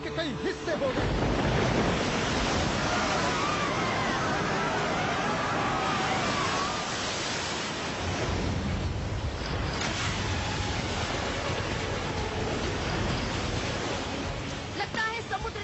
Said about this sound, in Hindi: सुनामी की विकराल लहरों से लड़ने के लिए विशाल बन गया है हमारा शक्तिमान